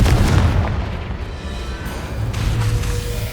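Confringo spell explosions in the Hogwarts Legacy video game sound as loud, deep booming blasts with a rolling low rumble that carries on throughout, with no speech.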